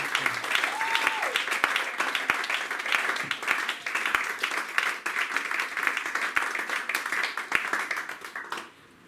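A church congregation applauds steadily at a Sunday worship service, a dense sustained clapping that fills the room before thinning out at the very end.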